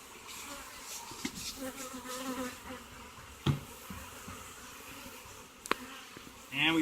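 Honey bees buzz around a hive during a powdered sugar shake for varroa mites, a steady soft drone with occasional close fly-bys and light handling knocks.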